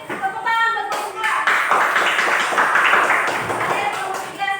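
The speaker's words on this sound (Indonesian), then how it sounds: "Tepuk tangan buat kelompok 2." An audience in a classroom claps for a student group, a burst of scattered hand claps building into steady applause, with voices mixed in.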